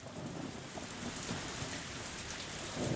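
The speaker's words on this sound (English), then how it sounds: "Just then there was thunder in the distance and a heavy rain started pouring down." Heavy rain pours steadily in a dense, continuous hiss with low distant thunder rumbling underneath, a rainstorm effect from the Higurashi When They Cry visual novel, with no voices.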